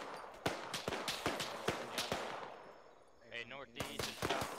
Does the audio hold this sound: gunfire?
yes